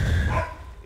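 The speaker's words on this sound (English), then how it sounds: "My dog's going crazy." A pet dog barks excitedly at home, a few loud close yelps in the opening half-second that fade quickly under background noise.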